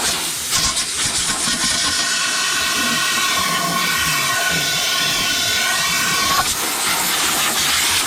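Compressed air blasts a steady loud hiss over motorcycle fork parts from a KLR 650 to dry them, a continuous close rush lasting several seconds without talking.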